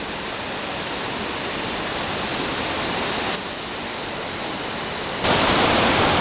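The Presque Isle River waterfall in Michigan roars steadily as a broad, continuous rush of falling water heard alone, with abrupt shifts in loudness partway through.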